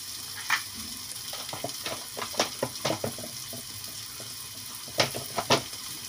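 Garlic and onion sofrito frying in a pan, soft sizzling broken by scattered crackles, pops and stirring clatter, fairly quiet with no talk.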